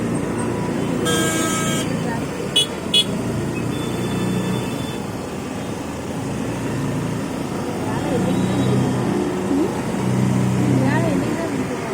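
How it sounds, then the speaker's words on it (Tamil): Busy road traffic in Mumbai with a steady rumble of vehicles and a couple of short car horn toots early on, while voices talk over the street noise. "டிராஃபிக்காக இருக்குது."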